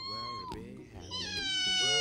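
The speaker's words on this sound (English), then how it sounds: "Look, he's just meowing." A small cat meows repeatedly just after being given a bath, drawn-out unhappy cries close by and fairly loud, rising and falling in pitch with a person's voice mixed in.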